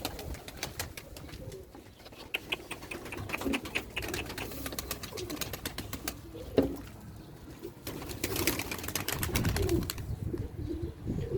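Pet pigeons cooing in a loft: repeated soft, throaty coos from several birds, close by, mixed with rustling, light clicks and occasional wing flutters.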